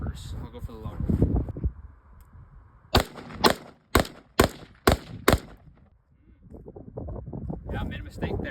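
Six sharp rifle shots fired at a sticky note through a low-power variable optic, cracking out in a quick, evenly paced string outdoors, with wind rumble and muffled voices before and after.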